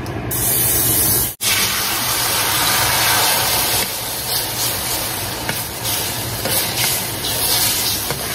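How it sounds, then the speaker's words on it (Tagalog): A can of olive oil cooking spray hisses steadily in a kitchen. The loud, close spray breaks off briefly and then continues in one long sustained burst. "Spray na olive oil."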